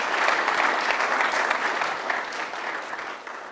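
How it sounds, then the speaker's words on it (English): Audience at a university graduate research presentation event applauds, a dense, steady wash of many hands clapping that tapers slightly toward the end. "Everyone give her one more round of applause."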